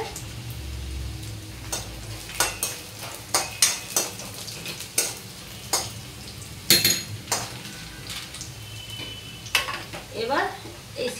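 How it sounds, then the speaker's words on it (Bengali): Onions browning in a pan for masoor dal, a soft steady sizzle broken by repeated clinks and scrapes of a metal spoon stirring, close and fairly loud. "পেঁয়াজটা একটু ভাজা ভাজা হয়ে এসছে।"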